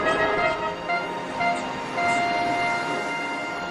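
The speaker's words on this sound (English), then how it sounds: "A sturdy diesel was coming round the mountains." A sturdy diesel locomotive comes round the mountains in an animated children's show, a continuous rumbling train sound with droning horn-like tones rising and falling, steady and fairly loud with no talk.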